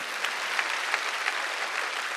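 Steady applause from a crowd at an evangelistic rally held in an indoor gymnasium, a dense even wash of clapping from many hands at moderate, slightly distant level, with no clear voices over it.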